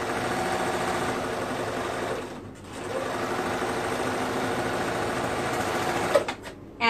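A sewing machine stitches boys' mesh shorts in a fast, steady mechanical whir, close and loud, briefly pausing midway before running on and stopping near the end.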